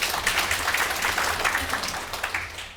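An audience at a public deliberation forum gives a sustained round of applause, a steady dense patter of many hands heard from a moderate distance with no talk over it.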